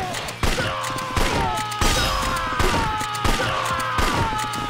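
Gunfire in the Yakuza 3 video game, a string of loud, evenly spaced shots repeating roughly every half second to a second, each with a sharp crack and ringing tail over a steady low hum.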